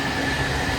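A train in Japan, heard as a steady, loud, close rumble of rolling carriages with a constant hum and no break, lasting under a second.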